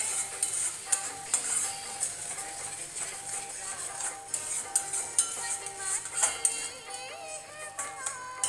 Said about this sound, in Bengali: এখন এই মশলাটাকে আমি ভালো করে কষিয়ে নেব।